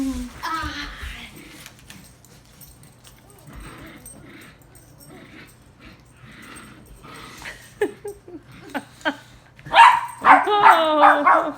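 A dog barks and yips in short, loud bursts while tugging against a boy in a tug-of-war game indoors, with the bark cluster near the end; people talk and cheer throughout.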